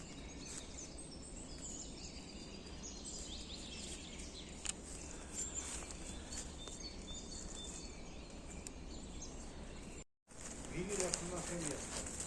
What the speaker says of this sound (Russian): Ну, птицы поют обалдеть.